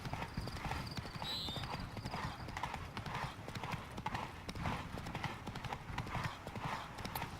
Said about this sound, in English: meu cavalo tá cansando